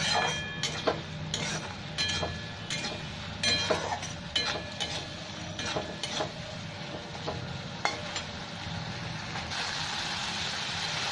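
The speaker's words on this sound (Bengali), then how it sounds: "এবার ভালো করে মশলাটাকে কষে নেব, তেল ছেড়ে দিবে" Spice masala for a young jackfruit curry being fried in oil with a splash of water and stirred in a pan: a steady run of metal spoon clinks and scrapes over a faint, low sizzle.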